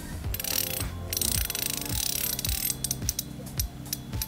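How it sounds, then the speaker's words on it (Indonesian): Drag on a Kenzi Toray 5000 metal-frame spinning reel gives off rapid ratcheting clicks in several close, loud bursts, with the click rate speeding up and slowing down as line pulls out. "kita coba dengar bunyi dragnya"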